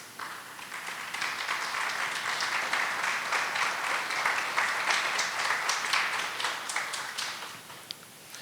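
A gathered audience claps in a long, dense burst of applause that swells and holds steady for several seconds before tapering slightly, with no talking over it.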